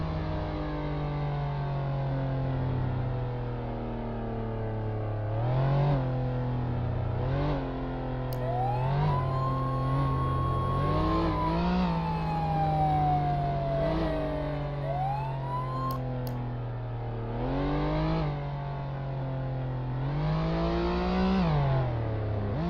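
A car engine in the Flashing Lights driving game holds a steady low drone with repeated revs and gear shifts, while a wailing emergency siren sweeps up and down over it throughout.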